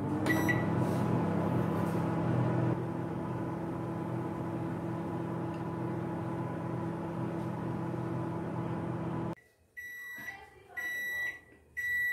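A microwave oven hums steadily while cooking an apple oats mug cake, then falls quiet and gives a series of sharp beeps as it finishes, with a brief clunk near the start.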